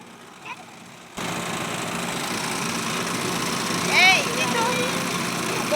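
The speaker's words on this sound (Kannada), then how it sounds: "boat riding" A motorboat engine drones steadily during a ride on the Ganges at Varanasi. It starts abruptly and runs continuously, fairly loud and close, with a few brief higher chirps over it partway through.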